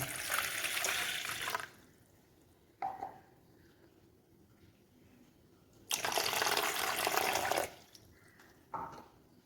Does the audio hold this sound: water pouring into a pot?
yes